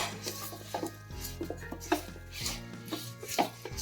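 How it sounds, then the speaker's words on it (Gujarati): Roasted sesame seeds being stirred quickly into hot syrup for sesame chikki, a series of close, brisk scraping and knocking strokes against the pan in an irregular rhythm, no talking. "આ શેકેલા તલ છે ને એ તલને એમાં એડ કરી દઈએ, અને ઝડપથી હવે આ પ્રોસેસ આપણી ઝડપથી કરવાની છે."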